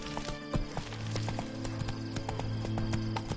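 Roach the horse trotting in The Witcher 3, a quick, even clip-clop of hooves close by over steady game ambience, with a brief snort or whinny mixed in.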